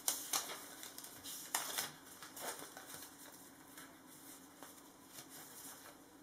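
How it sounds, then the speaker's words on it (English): Pen scratching on paper while writing a foundation powder recipe by hand, with faint, close scrapes and taps in irregular bursts that are strongest at the start and then taper off quietly. "I'll write this down real quick."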